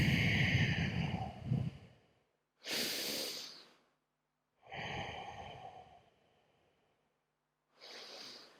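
Slow, deep breaths during a power yoga session, several loud close exhales and inhales in a steady rhythm separated by brief silences, with no talk.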